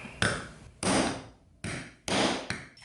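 Four loud hammer strikes in an uneven rhythm, the flat end of a hammer setting a snap onto a leather pouch, each a sharp broadband thud with a short ring, close up with quiet gaps between.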